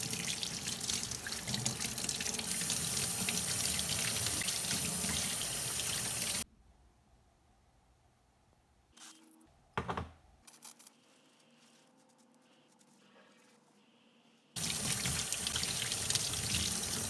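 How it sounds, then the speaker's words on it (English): Water runs steadily from a tap or washer over motorcycle transmission parts from an AMF-era Harley-Davidson Shovelhead during a rebuild, a continuous rushing splash that stops, leaves a quiet gap with a few clinks, then resumes. "Each of these remaining pieces will now be washed and inspected"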